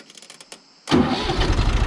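A tractor engine is started close by: after a short stretch of quiet background, it catches suddenly and settles into a loud, rough, steady idle.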